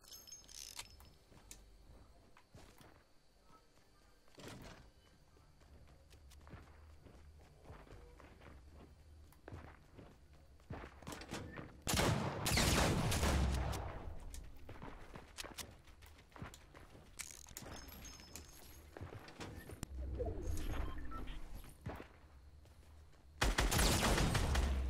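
A new gun in Fortnite fires in bursts of gunfire during a Halloween-update match. Loud volleys hit at irregular moments, with quieter footsteps and mechanical clatter in between.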